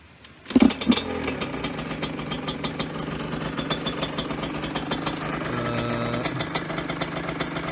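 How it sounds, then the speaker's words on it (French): A Husqvarna 125 SMS two-stroke motorcycle kick-started on grass, a sudden catch followed by a steady, close, buzzy two-stroke idle that runs on without talk. "C'est parti, petit démarrage à l'ancienne avec le kick."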